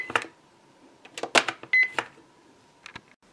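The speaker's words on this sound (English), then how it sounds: "You can also swipe Minnie's charge card," A toy Minnie Mouse BowTique cash register gives off a run of electronic beeps and clicks as its charge card is swiped, short bright bursts with a brief tone, close and fairly quiet.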